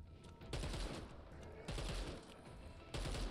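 A new gun fires in the video game Dead Island 2, three heavy bursts of rapid shots in quick succession with rumbling low-end, moderately loud and close, separated by brief gaps.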